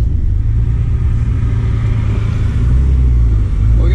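A twin-turbo Nissan 300ZX engine runs close by with a loud, deep, steady rumble that swells slightly toward the end.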